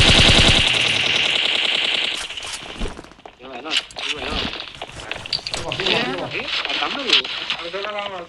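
Rapid automatic gunfire in a shooting video game opens the scene loud and steady, then gives way to scattered shots and game effects while several people talk excitedly over it.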